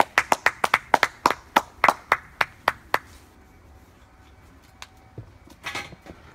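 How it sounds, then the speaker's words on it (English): After a speech, a small group claps in a sparse run of about a dozen sharp, distinct claps for three seconds, then the room falls mostly quiet with a few faint scattered taps and a last soft flurry. "Can we get a round of applause again for that wonderful speech?"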